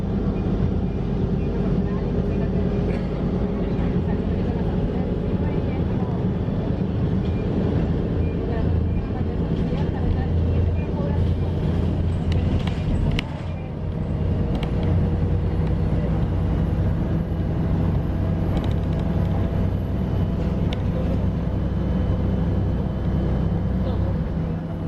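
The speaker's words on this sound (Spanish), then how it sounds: "viajar en este bus, escuchar estos motores" A Volvo B7R LE engine drones steadily from inside a Marcopolo Gran Viale bus climbing a hill, a loud, constant low rumble that carries through the whole stretch with only a brief dip partway.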